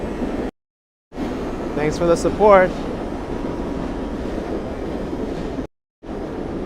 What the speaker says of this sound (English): you can hear the trains going by